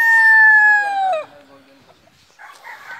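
A Golden Boy sweater gamefowl rooster crows loudly and close, one long falling call that breaks off, followed by quieter clucking and background noise.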